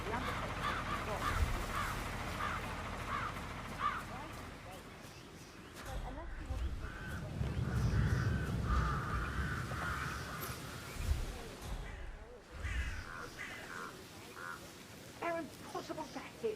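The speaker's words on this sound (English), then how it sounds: "It's the birds. They're making a racket" Crows caw repeatedly in the Hitman: World of Assassination video game, amid a busy game soundscape with talk layered over much of it.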